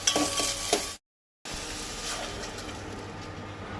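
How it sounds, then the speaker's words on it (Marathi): Chopped onion and green chillies sautéing in coconut oil for a Goan fish curry: steady frying sizzle with a few spoon-against-pan scrapes and clinks, a short silent cut, then the sizzle continuing evenly. "2 मिनटां तेलार कांदो आनी मिरसांग बरी परतून घेवंक जाय"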